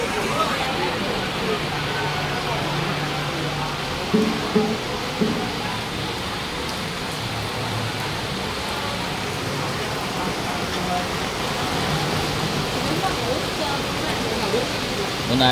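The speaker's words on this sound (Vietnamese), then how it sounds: "hiện tại thì trời rất mưa lớn" Heavy rain pours steadily during an outdoor funeral in Vietnam, a dense continuous hiss with brief knocks, while a voice speaks over it.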